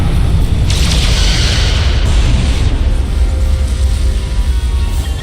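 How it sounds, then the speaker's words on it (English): Photon torpedoes firing in a starship battle in the video game Star Trek: Resurgence, heard as a loud, sustained booming blast with a rushing hiss, continuous and dense over a heavy low rumble with no talk. "Fire photon torpedoes!"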